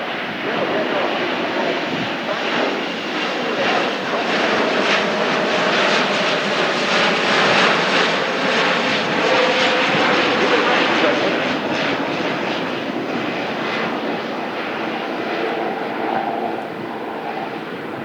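Airbus A400M Atlas military transport turboprop engines during an airshow display, a loud, sustained roaring drone that swells and holds for the whole stretch, dense and powerful, with commentary talk faintly mixed underneath.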